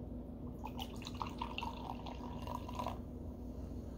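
C4 Energy Fruit Punch energy drink pours with a faint, soft trickle and light splashing against a quiet background hiss, lasting a few seconds with no talking.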